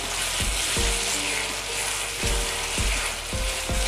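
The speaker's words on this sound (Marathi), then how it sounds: "बटाटा देखील ना तेलावरती छान भाजून घेऊ" Potato and onion pieces fry in hot oil with a loud, continuous sizzle, broken by several sharp clanks and scrapes of a spatula stirring the pan, no voices.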